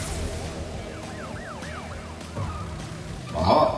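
A police car siren wails in rising and falling sweeps inside the Crash Bandicoot 3 Warped video game, under busy game music and effects that swell near the end.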